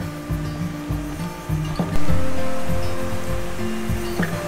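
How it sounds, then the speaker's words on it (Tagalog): Steady rushing flow of water at Balaybayen waterfall in a Palawan forest, a continuous broadband roar that swells slightly midway, with faint thumps of movement nearby. "Rinig na rinig dito sa naroon natin ang agos ng tubig."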